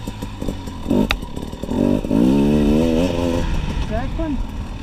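A KTM EXC250TPI two-stroke enduro motorcycle accelerates in first gear, its engine note climbing sharply in a loud, close rising rev after some rough idling and clatter.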